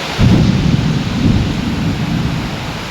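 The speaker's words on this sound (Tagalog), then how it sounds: "Lakas ng kulog." Loud thunder rumbles through an indoor room during a storm, a deep rolling boom that swells and then slowly fades under steady rain noise.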